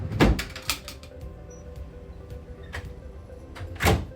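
A drawer in a hotel room at a resort is pulled open, with a wooden thunk and sliding scrape, some small clicks and rattles, then another heavy knock near the end, close and fairly loud.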